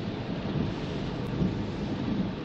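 Heavy rain pours steadily on a street with thunder rumbling low beneath it, a dense continuous roar with no voices.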